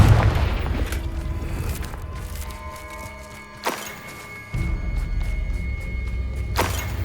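Confringo fire-blast spell in Hogwarts Legacy, a deep booming rumble with sharp blasts and sustained low roar through the clip.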